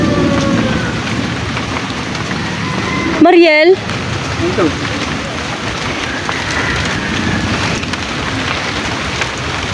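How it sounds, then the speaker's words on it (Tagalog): Heavy rain pouring down in a steady, dense hiss from start to finish, with a brief voice calling out partway through. "Lumakas na naman ang ulan."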